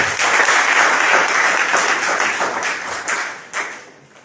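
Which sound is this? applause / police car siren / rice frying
applause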